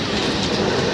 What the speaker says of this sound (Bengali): ট্রেন ঢুকে গেছে